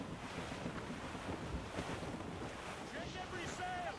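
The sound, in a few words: squall wind at sea in the video game Assassin's Creed Rogue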